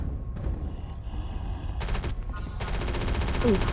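Video game gunfire rattles in rapid bursts from a gun in Area 51, loud and close with short pauses between volleys, over faint background game sound.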